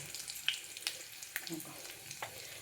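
Turmeric goes into a hot tempering of cumin and curry leaves for a ridge gourd chutney, giving a soft, close sizzle and crackle with a few faint clinks and taps.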